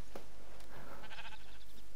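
A Minecraft sheep gives one brief bleat over steady game background noise, with no voices.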